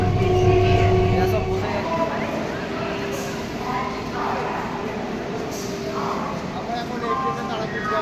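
Local Tarakeswar line train running from Belur toward Howrah, a steady broadband rumble with a low hum, continuous and close as heard from inside a carriage, with talk over it early on.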